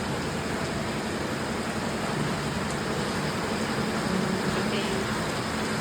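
Heavy rain falls in a home garden among potted plants, a dense, unbroken roar of downpour that stays loud and even throughout and drowns out everything else.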